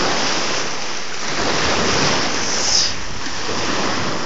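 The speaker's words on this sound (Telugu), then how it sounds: "పెద్ద పెద్ద అలలు సూపర్గా ఉన్నాయి" Big ocean waves breaking on a beach shore, a loud continuous roar of surf with wind buffeting the microphone and no talking.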